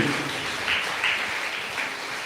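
A church congregation at a live Sunday service claps hands, a steady rapid patter with a few louder bursts, sounding fairly close and filling the space without speech.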